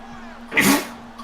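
A single sharp sneeze bursts out loudly and close, over a faint steady hum.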